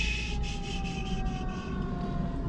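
An emergency vehicle siren wails steadily over a low engine rumble, with a rapid repeating pulse in its tone, fairly close and continuous, in a parking lot.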